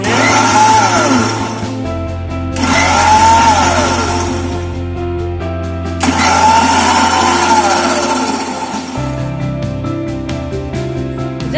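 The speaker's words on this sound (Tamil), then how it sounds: "இப்படி கொஞ்சம் நிறுத்தி நிறுத்தி அரைங்க." A kitchen blender grinds watermelon for juice in short pulsed bursts, its loud motor whirring in three long runs separated by brief pauses, with no talking.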